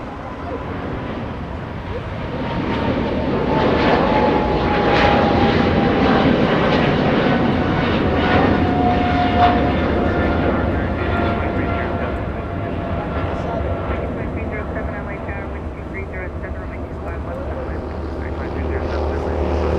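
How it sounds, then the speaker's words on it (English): Turkish Airlines Boeing 777 departing Los Angeles airport, a sustained loud jet engine roar swelling and then slowly easing, with a commentator talking over it. "Turkish Airlines 777 getting a move on"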